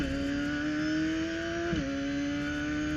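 A Radical race car at full throttle in fourth gear through a long corner at Circuit of the Americas: a loud, sustained high-revving engine whine holding steady, then dipping briefly in pitch before carrying on.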